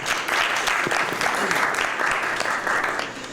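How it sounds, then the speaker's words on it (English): A room of people at a community workshop gives a round of applause, a continuous, fairly loud patter of many hands clapping steadily throughout. "So a round of applause to everyone."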